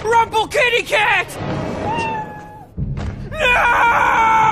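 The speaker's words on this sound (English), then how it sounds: "Kitty cat!" A cartoon cat lets out a series of rapid, loud, wavering meows that break into screeching, followed by a thud, a sliding whistle and more shrill cries, with a character's voice mixed in.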